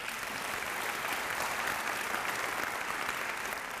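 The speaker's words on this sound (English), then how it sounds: "Let's give them a round of applause." A round of applause from an audience at a small business event, dense sustained clapping from many hands, steady and fairly loud throughout with no voices rising above it.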